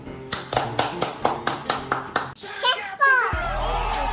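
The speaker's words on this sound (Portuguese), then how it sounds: "Palmas pra ela." About ten steady, evenly spaced hand claps in a row, close and clear, for a player in a high-heels racing game, followed by someone talking and playful noise.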